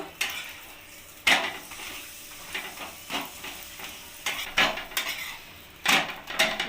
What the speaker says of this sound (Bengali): এটা সাদা রিফাইন অয়েল আমি সাদা তেল দিয়ে এটাকে ভেজে নেব